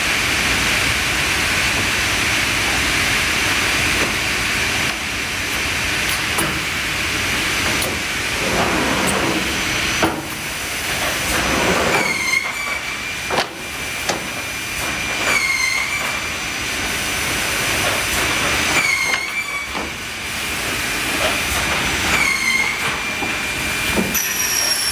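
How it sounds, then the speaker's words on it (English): An S-250+BD-B-NC drawer parts processing line runs with a continuous mechanical rumble, rattling clatter and repeated high metallic squeals rising over the steady drone. "We will now demonstrate the machine running."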